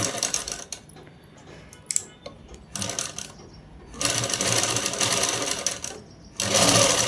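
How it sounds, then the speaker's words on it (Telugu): A sewing machine stitches a blouse in bursts of rapid mechanical whirring, with short pauses between runs and the longest, loudest stretches near the end. "ఇలా కుట్టు వేసేసుకోవాలి. కుట్టు కూడా అంతా ఒకటే లెవెల్ రావాలండి"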